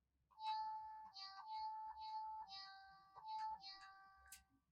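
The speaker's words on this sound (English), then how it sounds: "I can play with it by pressing on its back. I like it because it can make beautiful music." A toy cat pressed on its back plays a short, quiet electronic tune of about half a dozen bright, sustained notes, alone against near silence.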